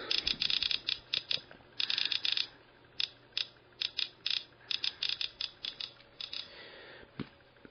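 A DRSB-88 Geiger counter exposed to alpha and a little beta radiation gives rapid clusters of sharp, dry clicks, close and fairly loud, coming in irregular bursts with short gaps and no talking.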